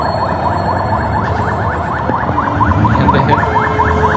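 A loud, close electronic siren from an ambulance in Bangladesh being driven for election campaigning, its rapid rising tone repeating in a fast regular cycle with no pause.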